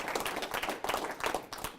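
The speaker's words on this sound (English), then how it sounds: "I think you should give SMUD a big round of applause" Faint applause from an audience at an electric vehicle association general meeting, a brief, soft patter of clapping heard from a distance.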